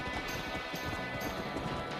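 Horse hooves clip-clopping in the Red Dead Redemption video game, a steady run of soft thuds through a 2-second stretch, fairly close and at moderate level under continuous game ambience.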